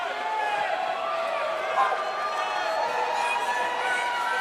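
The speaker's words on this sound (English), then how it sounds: "this Portland, Maine crowd is letting him hear it" A Portland, Maine crowd at a wrestling street fight roars and jeers in a steady, dense wash of voices, with a commentator speaking over it.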